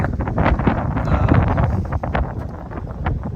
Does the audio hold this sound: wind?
yes